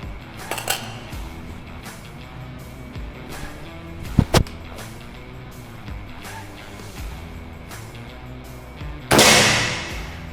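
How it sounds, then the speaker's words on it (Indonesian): Several sharp, snappy PCP air rifle shots, a Ghost Warrior DB 300 firing 9.56 grain pellets at a target, crack out at intervals amid a quiet background, ending with a hissing burst of air. "Kita akan coba tes akurasinya melalui 3 kali tembakan untuk sasarannya"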